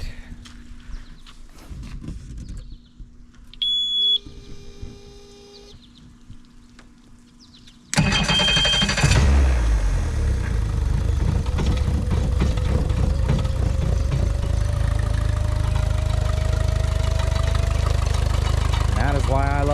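A four-stroke outboard engine on a 1977 17-foot J-Craft boat starts abruptly after quiet moments of small clatter, then settles into a loud, steady idle that runs without a break.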